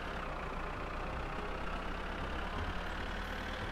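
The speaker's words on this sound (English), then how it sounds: "It's been like a while we didn't drive this thing, the tractor." Tractor engine running while driving in the video game My Summer Car, a steady, low, rumbling drone that holds at an even level throughout with no pauses or changes in pitch.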